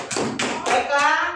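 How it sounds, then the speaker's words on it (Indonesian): Classroom clapping during an Islamic studies lesson on the pillars of faith, several loud rhythmic bursts of hands clapping in quick succession, close by, lasting about a second and a half. "kasih tepuk tangan."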